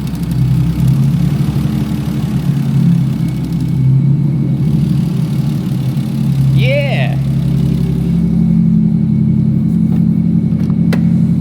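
A car engine roars loudly and steadily at full throttle, with a deep rumble throughout and a brief shout from a voice midway.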